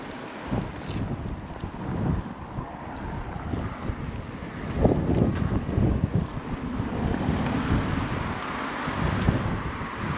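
Wind buffets the microphone beside open water at the Brno reservoir dam, a steady broad roar with gusty swells and faint lapping of water, no voices.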